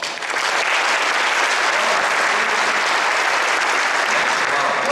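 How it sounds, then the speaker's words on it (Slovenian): Loud, dense applause from a large crowd at a New Year reception, sustained and even throughout with no voices over it. "Zdaj pa še malo večji aplavz."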